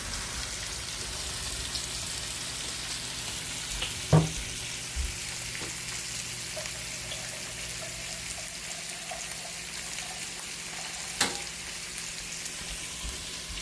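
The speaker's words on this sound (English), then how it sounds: "Now I'm going to add a little tad of water while I'm frying my onions with my meat" Steady broadband sizzle of onions and deer meat frying in a pot, with a few sharp clinks and scrapes of a utensil against the pan.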